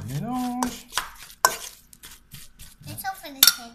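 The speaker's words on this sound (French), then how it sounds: "Je remélange" Spoon stirring a cauliflower and cheese croquette mixture in a bowl, with soft scraping strokes and sharp clinks against the dish, close by, while a voice talks between the stirs.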